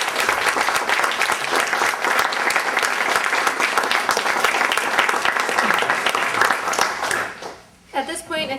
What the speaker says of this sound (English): I think another round of applause is due.